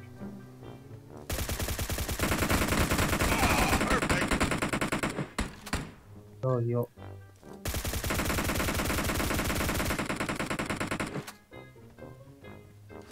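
Loud bursts of automatic gunfire in the mobile battle-royale game PUBG Mobile, two long sustained volleys with short single shots between them, while a player's voice speaks briefly over the shooting.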